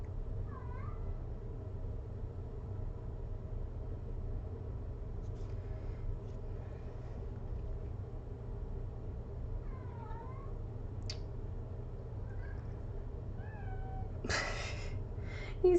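A cat shut outside a closed room yowls now and then, muffled and distant, a few scattered meows over a steady low room hum, with a brief rustle or knock near the end.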